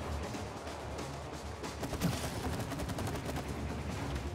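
Gunfire in the video game It Takes Two rattles continuously as a dense, loud fusillade, with rapid repeated shots over a busy game soundscape.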